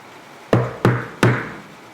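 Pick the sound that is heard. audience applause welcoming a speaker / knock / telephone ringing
knock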